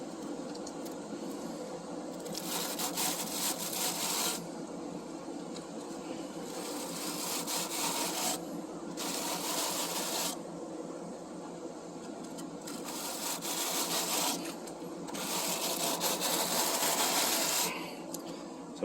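Stiff brush scraping along the bent aluminum fins of an air conditioner condenser coil to straighten them, a steady rasping scrub that surges in repeated strokes with brief pauses between passes.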